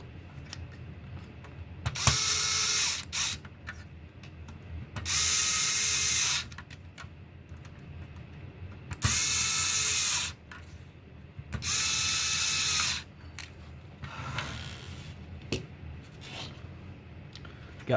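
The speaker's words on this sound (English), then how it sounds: "I find it easier sometimes just to go ahead and get them initially started." Small screws being driven into a Nintendo GameCube DOL-001 during reassembly with a powered driver, several separate bursts of steady mechanical whirring with quiet handling sounds between them.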